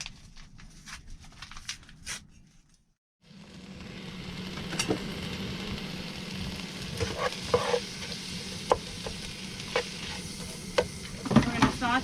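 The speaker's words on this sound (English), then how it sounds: "We're going to saute that up till it's nice and brown." Shredded pork with taco seasoning sautéing in a pan, with a steady sizzle that starts after a brief quiet gap and carries on with scattered stirring clicks and scrapes, up close.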